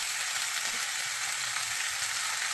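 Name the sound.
tomato garlic dried chili paste sizzling with frying chicken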